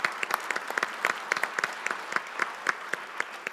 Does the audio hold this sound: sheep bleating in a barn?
no